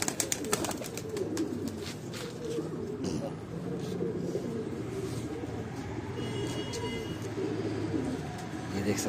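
Pigeons cooing in a breeding loft, low continuous coos and rustling throughout, fairly close, with some background traffic and faint talk underneath.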